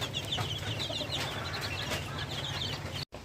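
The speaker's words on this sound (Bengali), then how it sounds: "এই যে বাচ্চা সব দেশি মুরগির বাচ্চা দেখেন" Native Bangladeshi chickens softly clucking and chicks peeping in a continuous chorus on a poultry farm, with a low rumble beneath and a brief cutoff near the end.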